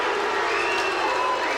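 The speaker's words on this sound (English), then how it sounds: "listen to the crowd" A boxing arena crowd roars after a fight is stopped, a dense, sustained wash of cheering and shouting from a large audience.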